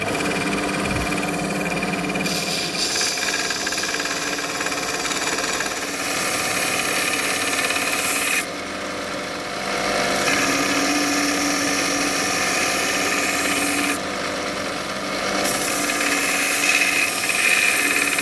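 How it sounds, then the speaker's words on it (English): Power grinder working a handmade bushcraft knife blade, a loud continuous abrasive whine with slight shifts in pitch as pressure changes, close up and steady. "So I'll grind this down."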